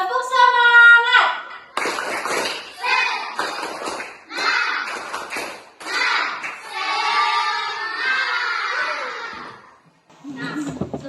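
Children chant a rhythmic clapping cheer, tepuk semangat, with bursts of hand claps between sung, chant-like phrases. The voices are close and fairly loud, and one long sung phrase near the end trails off.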